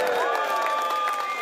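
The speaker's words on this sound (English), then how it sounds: "The courtroom erupted in applause as the High Court judge announced" People in a High Court courtroom break into applause and cheering at a verdict, a brief swell of clapping with raised voices close by.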